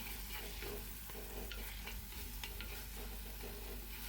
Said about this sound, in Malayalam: ആവശ്യത്തിന് ഉപ്പ് ഇട്ടിട്ട് നല്ല പോലെ നമുക്കൊന്ന് വാട്ടിയെടുക്കാം